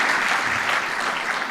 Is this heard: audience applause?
yes